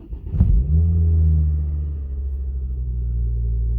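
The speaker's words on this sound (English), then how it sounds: "just about to start the car" A car engine cranks and catches, then settles into a steady low idle rumble, close and loud at first and easing slightly as it runs.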